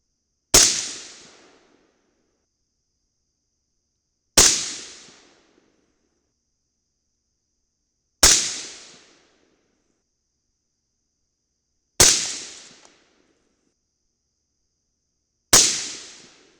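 Five sharp rifle shots firing Bob's 55gr FMJBT reloads with IMR 3031 powder, evenly spaced about four seconds apart, each a loud crack followed by a short decaying echo, with silence between.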